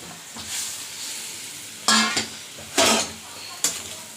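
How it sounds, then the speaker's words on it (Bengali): Katla fish pieces slide into a boiling, thick red curry, setting off three or four loud bursts of sizzling and spattering over a low background bubble. "ঝোলটা ফুটে গেছে, এবার মাছগুলো দিয়ে দিচ্ছি।"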